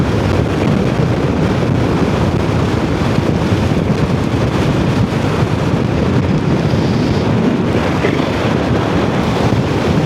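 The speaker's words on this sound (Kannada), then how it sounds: "ನೋಡಿ ಎಷ್ಟು ಗಾಳಿ ಇದೆ" Strong, continuous wind roars across the microphone at the Khardung La mountain pass during a solo motorcycle ride to Nubra Valley, a dense steady buffeting rumble filling the whole stretch with no voices.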